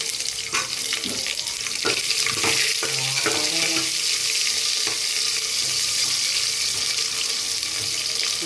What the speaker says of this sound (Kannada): ಈರುಳ್ಳಿ ಫ್ರೈ ಮಾಡಿ.